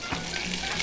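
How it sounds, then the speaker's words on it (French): Pancetta for spaghetti carbonara fries in a pan, giving a brief, dense, steady sizzle heard up close. "Dans notre pancetta, très important, on va la faire bien rôtir."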